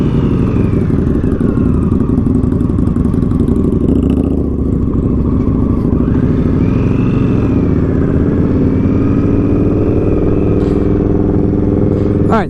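A 2015 Indian Scout motorcycle idles loudly close by, a steady throbbing rumble with a slight rise and fall in pitch throughout.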